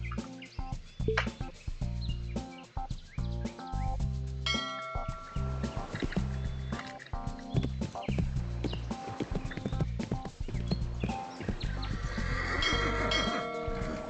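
Horse hooves clip-clop in the riding video game Let's Ride, with rhythmic thuds under bright birdsong and occasional whinnies, the gait shifting and speeding up toward the end.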